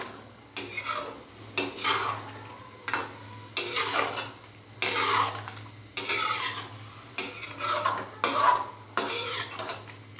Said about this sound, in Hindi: दही डाल देंगे, अच्छे से मिक्स करेंगे।